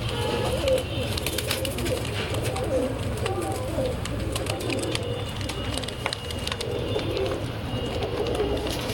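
Cooing from Madrasi pigeons in a loft, a steady low burble of many birds calling together, moderately close, with a brief murmur of voices in the background.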